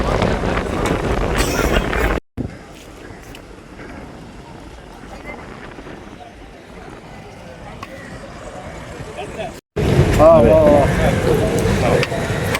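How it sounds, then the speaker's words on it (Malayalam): Strong wind buffets the microphone at a fishing harbour in Thengapattanam, a steady broadband roar with gusty swells; two brief dropouts break it near the start and end. "നല്ല കാറ്റുള്ളത് കാരണം."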